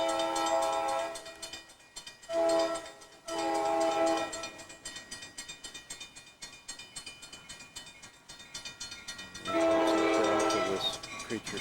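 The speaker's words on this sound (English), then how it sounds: "You can hear if there is a train coming." A train on the Winnipesaukee railway sounds repeated horn blasts, loud and steady in several bursts, with rumbling rail noise carrying between them on a damp, foggy day.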